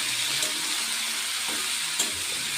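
Vegetables and chickpeas for a simple curry sizzle in a pan with a steady, close hiss, broken by a couple of faint utensil clicks, with no talking.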